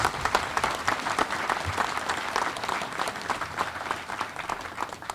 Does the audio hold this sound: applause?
yes